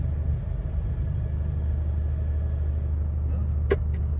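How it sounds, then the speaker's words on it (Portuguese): A truck squeezing slowly through a narrow street, giving a steady low engine rumble close by with a brief hiss near the end, and no talking heard. "O caminhão não passa nesse estreitinho."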